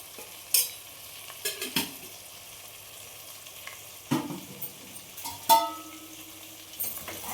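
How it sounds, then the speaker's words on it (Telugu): Spicy curry with chili powder and salt stirred as it fries in a pan, a quiet background sizzle broken by several sharp clinks and scrapes of the spoon against the metal pan, nearby and wordless. "తిప్పుకోవాలి. ఇప్పుడు మొత్తం అన్నంతా తిప్పుకొని"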